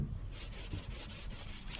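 Rhythmic rasping scrapes repeat in quick, even strokes, close and fairly quiet, as a clay bar rubs gritty dirt across smooth car paint.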